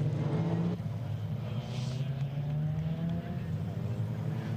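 MG Metro Cup race cars run around the Mallory Park circuit, their engines a steady droning roar heard from a distance, with a commentator talking over the sound throughout.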